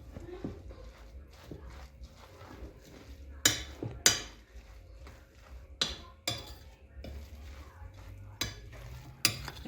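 Potato patty mix with egg being stirred into a paste in a bowl, giving repeated soft wet scraping strokes with a few sharper clacks of the utensil against the bowl, close and moderately quiet.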